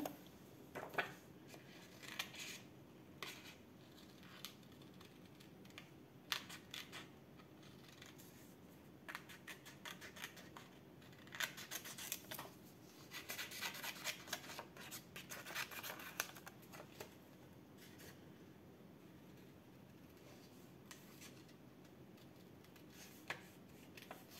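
Scissors snipping out a paper character for a handmade greeting card, quiet irregular cuts and rustling of paper close by, with faint crisp clicks scattered through and no talking.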